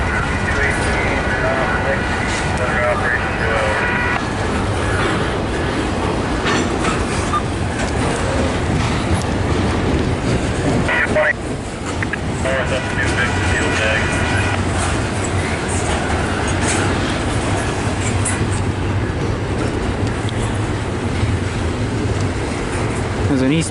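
Freight train with locomotive units rolling through a rail yard, a steady dense rumble and rail noise filling the whole stretch, with voices chatting nearby over it.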